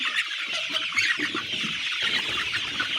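Laying hens on a poultry farm cluck steadily as a dense flock, a constant busy chatter of many birds with no clear pauses throughout.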